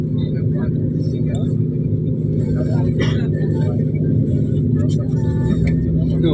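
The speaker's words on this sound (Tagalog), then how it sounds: "Tsada kailahang bus terminal diri." Busy bus terminal ambience with a steady low rumble of idling and passing vehicles throughout, and people talking over it.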